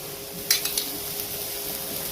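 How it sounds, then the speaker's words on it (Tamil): A green gram adai with drumstick leaves, just flipped on the pan with a little oil, fries with an even soft sizzle, a light utensil clink and a few ticks near the start. "திருப்பி போட்டுட்டு கொஞ்சம் எண்ணெய் ஊற்றிக்காங்க"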